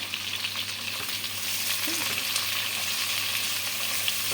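Two large sliced onions sizzling loudly in a pan alongside fried vegetables, a dense close frying hiss that swells slightly as they are stirred.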